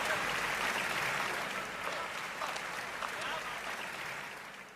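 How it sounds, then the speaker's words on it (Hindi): Audience at a Kota poetry gathering clapping to welcome a poet, fairly distant and soft applause spread evenly, fading slightly toward the end, with faint voices mixed in. "एक बार दोनों हाथ उठाकर जोरदार तालियां"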